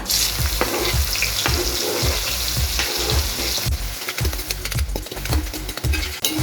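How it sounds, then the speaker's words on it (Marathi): Garlic, asafoetida and chopped onion fry in hot oil, a constant hissing sizzle punctuated by regular, rhythmic stirring knocks against the pan, heard close and alone. "तेलात आता थोडी जाणार लसूण दोन तीन पाकळ्या नंतर हे हिंग आणि हा बारीक चिरलेला कांदा"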